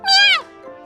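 A kitten in the visual novel game You and Me and Her gives a single clear, high rising-then-falling meow, close and loud, followed by a soft fading tail.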